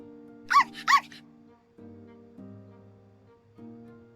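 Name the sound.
dog barking excitedly in a video game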